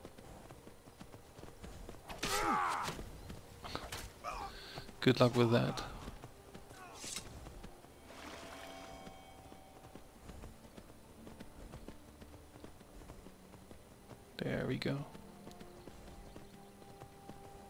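A horse's hooves clop along in the Skyrim video game, with brief rhythmic hoof bursts spread across the stretch and someone talking in between.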